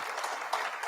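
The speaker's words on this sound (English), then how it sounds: "Let's give them another round of applause." An audience claps at a conference opening ceremony, a brief burst of dense, steady applause from many hands at moderate volume, with no talking.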